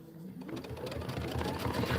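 An embroidery sewing machine stitches windows onto a quilt tile, its fast needle clatter close and continuous, with a faint voice in the background.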